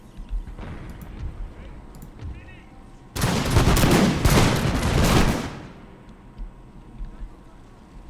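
A loud volley of musket fire from massed line infantry in Empire: Total War, a dense crackling burst of overlapping shots that swells abruptly and rolls on for about two seconds before fading back into a low battlefield rumble.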